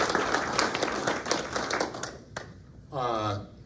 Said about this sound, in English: So they deserve a big round of applause for what they've done.